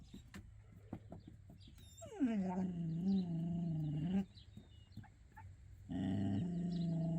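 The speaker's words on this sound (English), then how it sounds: "He does this growly thing." A dog waiting for its food lets out two drawn-out, pitch-wavering growls, close and fairly loud, with quieter shuffling and faint outdoor sounds between them.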